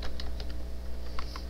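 Rapid keystrokes on a computer keyboard, entering code for a rock paper scissors game, with irregular clicks over a steady low hum, close and fairly quiet, no voice.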